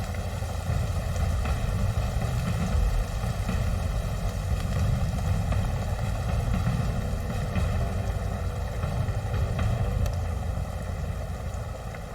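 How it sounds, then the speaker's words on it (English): Helicopter in the Sons of the Forest survival game, a steady droning engine and rotor hum with wind rush, constant and loud throughout with no talking. "Your helicopter gets shot down."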